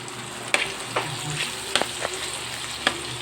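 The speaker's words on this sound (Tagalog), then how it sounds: "halo-halo lang hanggang maano yung yung panggisang mga bawang sibuyas" Garlic and onions sauté in a pan for pakbet, a continuous sizzle broken by sharp scrapes and clinks of a spatula stirring at irregular intervals, close and without speech.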